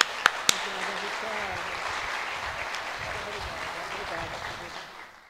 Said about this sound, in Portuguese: Márcia, vamos dar uma salva de palmas para ela